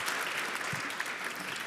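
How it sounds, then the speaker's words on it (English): An audience at an investment panel event applauds the panelists in a brief burst of dense, even clapping, with no voices over it. "I'd like to suggest a round of applause to our panelists"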